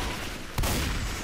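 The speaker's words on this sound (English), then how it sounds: "I'm just shooting all these guys" Gunfire in the zombie shooter game Left 4 Dead 2, a sharp shot burst cutting through a dense, noisy game soundscape, loud and close, over about a second.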